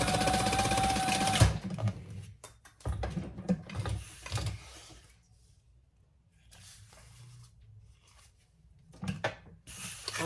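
A sewing machine stitches a seam on a messenger bag, rapid mechanical whirring in short bursts separated by pauses, with light handling clicks between runs.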